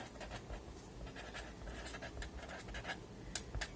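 Pen scratching across paper while writing out a math solution, a steady close scraping with short strokes and a few sharper taps near the end, with no talk.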